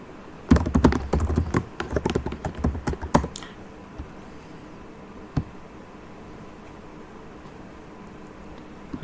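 A password is typed on a computer keyboard in a quick burst of close, crisp keystrokes lasting a few seconds, followed by near silence and one final isolated key tap.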